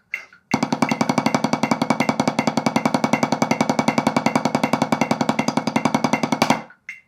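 Drums playing a steady, even pattern of rapid evenly spaced hits at a slow, unhurried tempo, loud and close, with no talking, stopping abruptly at the end.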